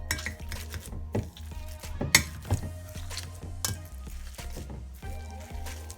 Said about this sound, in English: I've really mashed my sweet potato.